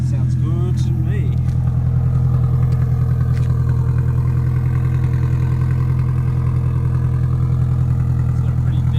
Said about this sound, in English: it seems to be idling nicely